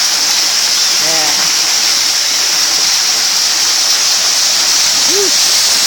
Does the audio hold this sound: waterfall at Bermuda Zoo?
yes